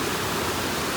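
A mountain stream in Bangthang village rushes steadily, a broad, loud, unbroken wash of flowing water.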